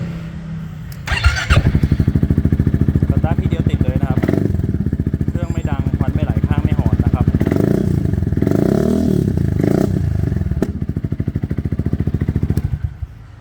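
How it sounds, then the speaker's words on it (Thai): A motorcycle fitted with carbon parts and a Brembo-style aftermarket setup idles loudly and close, its engine firing in a steady rapid pulse with a few blips of the throttle, running continuously throughout. "เดี๋ยวเรามาฟังเสียงเครื่องยนต์ดูนะครับผม"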